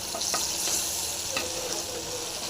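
Brinjal frying lightly in butter in a pan, a loud continuous sizzle with a few soft stirring clicks, close up and without voices.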